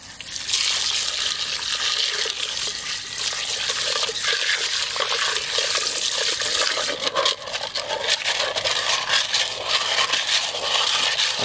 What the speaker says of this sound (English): So I'm going to pour it all into a bucket.